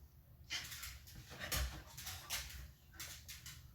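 A dog whimpers and whines in short, high-pitched bursts with some panting, fairly close in a home, with no talk over it.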